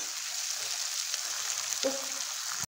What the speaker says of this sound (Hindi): और प्याज को हम हल्का सुनहरा होने तक भून लेंगे।